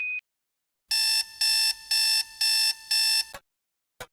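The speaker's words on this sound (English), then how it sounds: "Jack wakes up at 7:15 a.m. to the sound of his phone alarm." A phone alarm goes off in the morning: a short high beep, then five loud, evenly spaced buzzing bursts of a harsh electronic tone, each about half a second, ending abruptly with a couple of faint clicks.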